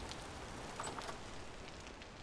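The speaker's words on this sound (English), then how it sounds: "Oh, the way the sound of the rain actually," Steady rain in the survival game Vintage Story, a soft continuous hiss of drops falling evenly throughout, fairly faint with no talk.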